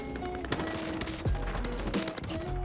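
Rapid automatic gunfire crackles through a Warzone firefight during a counter attack, a continuous busy stream of shots at moderate loudness with a few sharper cracks standing out.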